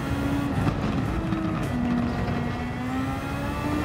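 A racing car in Gran Turismo 7 holds a steady, droning engine note through a lap, pitch wavering slightly as it accelerates and eases, loud and continuous with no voices.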